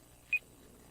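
A single short, faint electronic beep marks a phone call ending in Phoenix Wright: Ace Attorney, one clean high tone against a quiet background.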